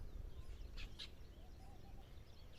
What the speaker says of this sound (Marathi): मला तर या ठिकाणी आल्यानंतर पक्ष्यांचा किलबिलाट ऐकल्यानंतर जरा जाणीव झाली